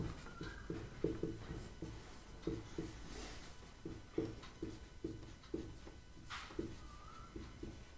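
Pen strokes scratching across paper as a line of a Class 10 maths solution is written out, a steady run of short, close scratches and taps with brief pauses between words.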